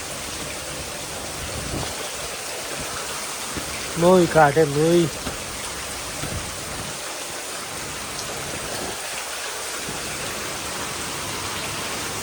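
Rain falls steadily at a Kankrej cow farm, making a continuous hiss throughout, and a person talks briefly partway through.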